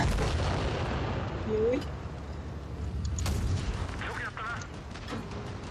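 Tank cannon shots in World of Tanks Blitz: one or two heavy booms rise from a constant rumbling battle bed while players talk over it.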